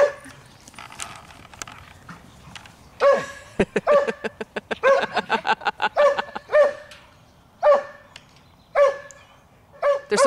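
Two dogs play together nearby, letting out bursts of sharp yips and barks with short pauses between, some in quick rapid-fire runs.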